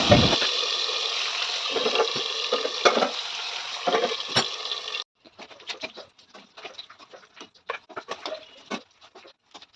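Fish frying in a pan with oil, a loud steady sizzle for about five seconds, then fainter crackling and spitting pops scattered through the rest.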